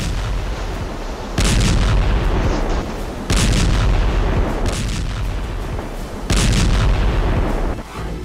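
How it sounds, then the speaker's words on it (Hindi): Heavy bombardment during airstrikes on Gaza: deep rumbling blasts and booming explosions come in repeated waves over continuous roaring noise, loud and close. "हमास के ठिकानों पर हमला, बारूदी हमले से लगी आग,"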